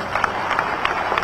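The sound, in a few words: crowd applause at a political rally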